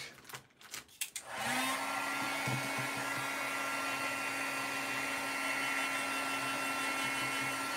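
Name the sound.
hair dryer drying a dream catcher craft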